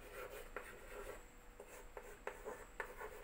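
Marker or chalk strokes scratching across a classroom board in a Class 4 computer lesson, short repeated rubbing bursts at a steady writing pace, close and fairly faint.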